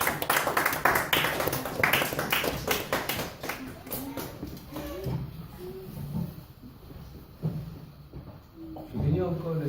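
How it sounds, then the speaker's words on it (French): Church congregation clapping in praise of the Lord during a worship service, brisk rhythmic claps loudest at the start, then fading under voices and singing toward the end. "on acclame pour le Seigneur"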